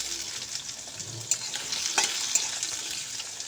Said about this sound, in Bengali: এরপর আমি এর মধ্যে দিয়ে দেবো কেটে রাখা আলু।